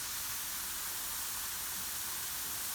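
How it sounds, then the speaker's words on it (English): Carrot fries frying in olive oil in a home kitchen, a steady, even sizzling hiss with no talk over it. "This is how it looks while it's frying in some olive oil."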